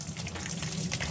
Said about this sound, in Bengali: এবার কল ছেড়ে একটু ভালো করে ধুয়ে নিচ্ছি, যাতে ভিনিগারের গন্ধটা চলে যায়।